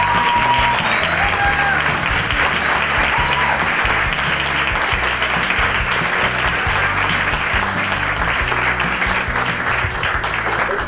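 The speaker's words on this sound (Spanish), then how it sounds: "un grandísimo, por favor, un grandísimo aplauso" An audience at a university talk on plant-based nutrition bursts into sustained, dense applause, many hands clapping loudly and evenly from start to finish.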